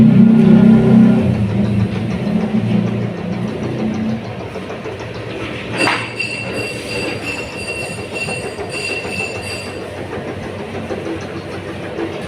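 A noodle dough rolling machine set to its thickest setting, pressing dough for Chinese-style mie ayam ramen, gives a steady, loud mechanical rumble that eases slightly after a few seconds, with a brief squeal midway and no voices.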